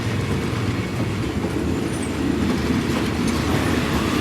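A train passes close by at Bang Sue station in Bangkok, a loud, continuous rumble with steady clickety-clack from the wheels and no voices.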